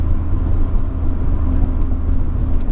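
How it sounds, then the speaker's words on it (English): Steady, loud road and wind rush fills the cabin of a moving 25-year-old Mazda Miata NA with a convertible soft top, a constant broadband roar with a low 1.8-litre engine hum beneath. "You do, of course, get a little bit of wind noise from the soft top"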